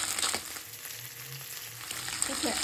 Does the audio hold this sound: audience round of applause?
no